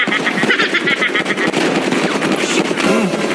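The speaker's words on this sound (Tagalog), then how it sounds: "binaril tayo ni Tatang." Rapid bursts of automatic video game gunfire crackle loudly and continuously through the whole stretch, dense and close, with brief dips between volleys.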